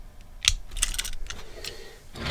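Small die-cast Matchbox toy cars are shuffled around on a table, giving a few sharp metallic clicks and light scraping taps at irregular intervals, close and fairly quiet.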